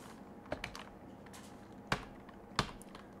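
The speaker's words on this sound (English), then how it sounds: "let's use keyboard." A few sparse, sharp keystrokes tap on a computer keyboard while a roguelike game is played; the clicks are close and isolated against a quiet background.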